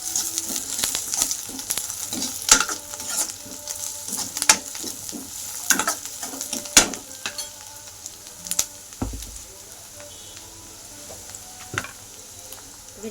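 Onion frying with coriander in a pan for a potato chutney, a steady close sizzle broken by frequent sharp scraping and stirring clicks, with no voices.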